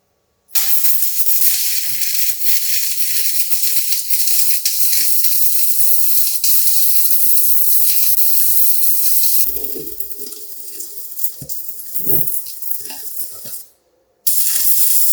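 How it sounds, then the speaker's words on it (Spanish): Arc welding on tacked steel plates gives a loud, close, continuous crackling sizzle that holds for several seconds, shifts to a rougher sputtering arc, then cuts off abruptly before starting briefly again. "procedemos a soldar"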